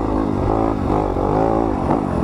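A 2020 Yamaha YZ250FX dirt bike engine revs loud and close, its pitch climbing and dipping in a steady, continuous drone.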